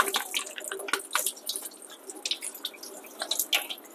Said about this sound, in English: A little hot water rinse is going to get the rest of the last tiny bit of ice off.